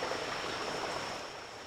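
The rocky Appomattox River rushes steadily over rocks, a dense continuous watery roar heard up close with no voices.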